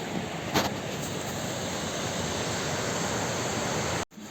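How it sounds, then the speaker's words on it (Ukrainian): Constant close-up rush of a waterfall in the Carpathian mountains, a dense even roar that stays level for about four seconds before cutting off abruptly, with no voices over it. "Тут у нас з цієї сторони водоспад"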